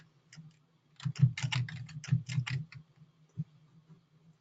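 Quick bursts of typing on a computer keyboard, close and fairly quiet, with clustered clicks in the middle and a single isolated keystroke near the end. No voices.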